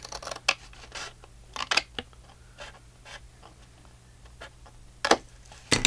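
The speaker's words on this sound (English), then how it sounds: "I better cut it. Let's just give it a little angle cut right there." Scissors cutting paper at an angle, close and clear, giving a series of crisp snips and scratchy slices in uneven bursts with a steady low hum underneath and no talking.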